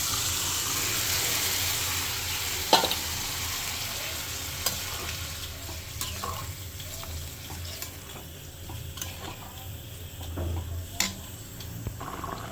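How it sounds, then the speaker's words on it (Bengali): Boiled chana dal is poured into fried spices in a pan. A continuous sizzle runs under scraping stirs and occasional sharp clinks of a spoon against the pan, with no talking. "এবার আমি এটাতে বয়েল করে রাখা বুটের ডালটা ঢেলে দেব"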